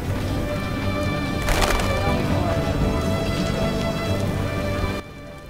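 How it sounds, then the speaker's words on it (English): Steady rain pours over a scene in The Witcher: Enhanced Edition, a dense hiss of drops with a brief louder burst partway through, then cutting off abruptly near the end. "Why must it rain?"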